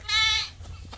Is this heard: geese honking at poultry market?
no